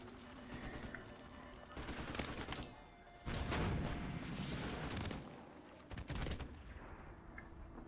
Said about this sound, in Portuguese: A gente vai dar o nosso primeiro tiro no helicóptero.